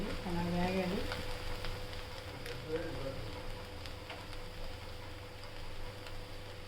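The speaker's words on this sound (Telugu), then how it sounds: "వేగనియండి, అలా వేగాలి." Fish roe frying in a pan with a little water added: a steady, close sizzle and crackle that runs throughout, with a brief tonal sound at the very start.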